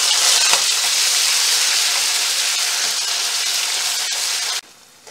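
Ground masala paste sautés in a hot tempering of asafoetida and curry leaves, producing a loud, continuous close-up sizzle that cuts off abruptly near the end.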